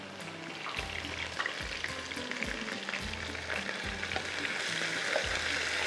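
Whole garam masala spices sizzle and fry steadily in hot oil in a pan, a dense continuous crackle and hiss with occasional stirring knocks, close and loud throughout with no talking.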